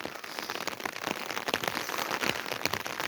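Heavy rain pours down in a village in Diyarbakır's Çüngüş area, a dense, constant patter of drops drumming on surfaces close by, with no voices.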